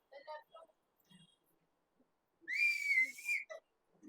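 A student's loud, sustained whistle in a classroom whistling contest lasts about a second, set between bursts of conversational talk before and after.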